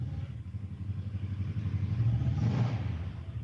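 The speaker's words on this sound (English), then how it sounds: "just feather the throttle a couple times, and we'll see these graphs move." A powersports engine in a service lab idles with a rough, throbbing pulse, then the throttle is blipped, swelling the engine into a brief rev before it falls back, close and loud with no voices.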